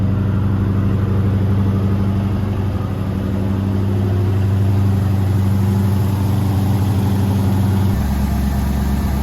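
A 1971 International truck engine with blown-out mufflers, after sitting 30 years, runs steadily in a loud, deep, throbbing idle that holds throughout and shifts to a lower tone near the end.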